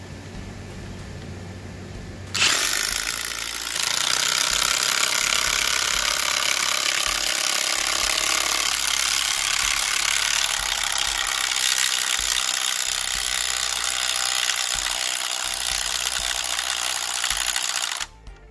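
Cordless Milwaukee and DeWalt power drivers sink lag screws into pre-drilled holes, a loud, continuous whirring and hammering drone that runs steadily for about fifteen seconds after a quieter start, then cuts off abruptly.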